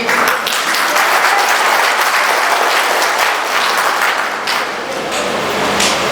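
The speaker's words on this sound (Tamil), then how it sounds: "எங்களை கைதட்டி வரவேற்று பாராட்டுவாங்கன்னு நம்பி" An audience at a Tamil stage debate claps loudly and continuously for several seconds, a dense, steady wash of applause from a large crowd.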